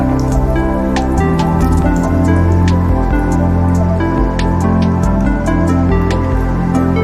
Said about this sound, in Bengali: এই কটা ঝরাতে দিলাম ঘিটা